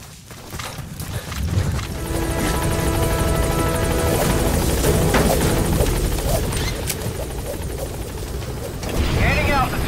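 A loud, steady support helicopter rotor drone from Metal Gear Solid V: The Phantom Pain fills the scene, with game-style crashes and clatter layered over it and a brief rising effect near the end.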